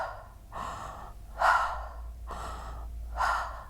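Deep open-mouth breaths in a transformational breathing demonstration: four slow, airy inhale-exhale cycles, close and clear, with no talking.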